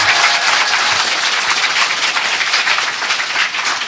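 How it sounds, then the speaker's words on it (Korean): Applause from a studio audience at a Korean talk show, a steady dense wash of clapping throughout, loud and continuous with no voices over it. "박수 한번 부탁드리고요"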